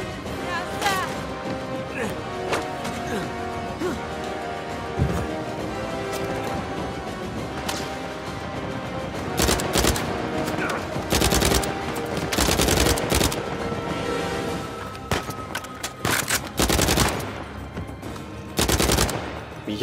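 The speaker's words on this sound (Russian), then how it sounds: "Я по ним стреляю, им хоть бы хны." Gunfire rattles in a shootout in Uncharted 4, bursts of automatic fire and sharp single shots cracking over background music, with a voice speaking now and then.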